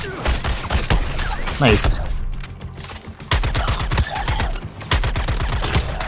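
Rapid bursts of gunfire in the action game Suicide Squad Kill the Justice League, loud repeated volleys broken by short pauses, with someone speaking briefly amid the shots.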